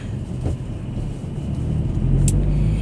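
A 2015 Mazda3 GT with a manual transmission drives along, its engine a loud, steady low rumble inside the cabin that swells slightly as it pulls.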